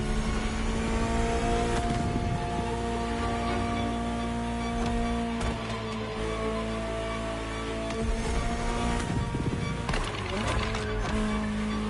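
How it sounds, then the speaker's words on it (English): A Ferrari supercar engine from The Crew Motorfest drones steadily at high revs, with a dense tonal hum that holds and shifts slightly as the car drives. "Just listen to the car you're driving."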